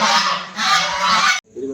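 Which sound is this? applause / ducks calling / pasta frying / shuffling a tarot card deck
ducks calling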